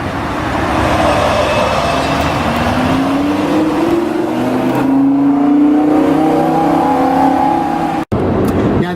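A Lamborghini Huracan LP 580-2 with a naturally aspirated engine revs up and down in loud, rising and falling sweeps, heard close and alone, with a brief break near the end.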